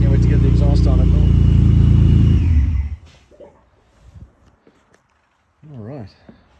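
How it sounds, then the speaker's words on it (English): A loud engine runs and revs for a few seconds, then cuts off abruptly, leaving quiet with a few faint knocks and a brief murmur. "It ran and it had throttle response."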